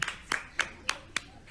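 A lone listener at a university talk claps slowly, five evenly spaced sharp claps at roughly a third of a second apart, faint and fairly distant, with no voices over them.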